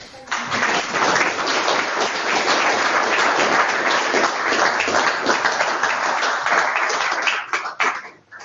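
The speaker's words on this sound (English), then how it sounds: "can you please once again put your hands together for John Lennox?" An audience applauds John Lennox at a talk on AI and the future of humanity, a dense, sustained round of clapping that swells quickly, holds steady for several seconds and then tapers off.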